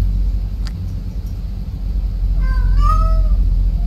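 A cat meows in a drawn-out, rising and falling call near the end, heard close over a steady low rumble of background noise.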